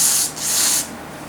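Two short hissing blasts from an aerosol can sprayed on the hardware of a 1986 Epiphone Les Paul guitar, close and loud, with a brief gap between them.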